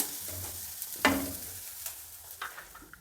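Onion tempering in a pan, a light sizzle under stirring, with a sharp scrape or clatter of the utensil and a few smaller knocks, close and fairly quiet.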